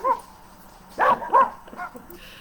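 Puppy yipping close by, a few short high-pitched yips and whiny barks in quick succession with brief pauses between them.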